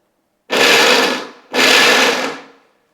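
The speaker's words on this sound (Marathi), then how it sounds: "आणि मिक्सर फिरवताना पण कसं हे बघा असा मिक्सर फिरवून घ्यायचा आहे" A kitchen mixer grinder coarsely grinding soybeans runs in two loud, close bursts of about a second each, separated by a brief pause.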